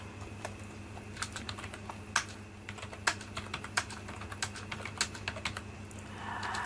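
Numbers being typed into a spreadsheet on a computer keyboard: a run of irregular, crisp key clicks, close and fairly quiet, with a few louder strikes among lighter taps over a faint steady background hum.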